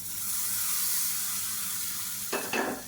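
Mustard seeds, urad dal, asafoetida, curry leaves and dried red chillies sizzling in hot oil for a tempering, a steady close crackle with two short louder bursts of spitting near the end.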